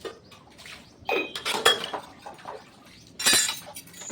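Steel dishes, pots and pans clink and clatter as they are washed, with scattered knocks and scrapes in irregular bursts, close and moderately loud, separated by quieter pauses.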